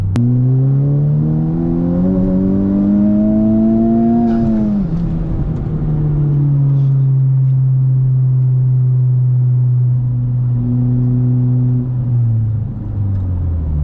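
A street-tuned Honda Civic Type R engine runs loudly close by, revving up in a rising sweep, dropping back to a steady idle-like drone, then blipping again near the end, with no talking.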